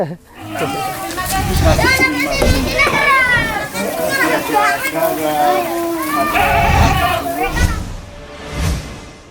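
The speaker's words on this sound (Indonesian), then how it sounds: "Masya Allah ini banyak kambing di sini" Goats bleat at a goat farm, wavering cries overlapping with lively children's and adults' voices chattering close by throughout.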